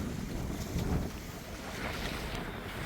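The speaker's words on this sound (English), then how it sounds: "plenty of wind. Blowing about 20." Strong wind of about 20 knots buffets a cruising sailboat heading out of a channel, a steady loud broadband roar of gusts and microphone wind noise with water rushing along the hull, swelling briefly near the start, no voices.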